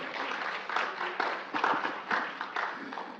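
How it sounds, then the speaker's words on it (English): Audience at a Pacific Islander health gathering applauds a speaker, a sustained round of clapping with distinct louder bursts of individual claps rising and falling over a moderate crowd. "If we can give another round of applause to Mr."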